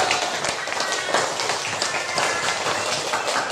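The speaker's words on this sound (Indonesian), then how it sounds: "tepuk tangan untuk kelompok A" A class of schoolchildren claps for group A, a dense, continuous patter of hands from a nearby crowd lasting the whole moment, with voices mixed in.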